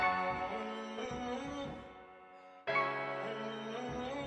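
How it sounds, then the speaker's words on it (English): A soft, pitched piano loop with a washy reverb tail, sampled for a hip-hop beat in FL Studio, briefly dropping out before the chords return, quiet and without any voices. "It's just a piano loop."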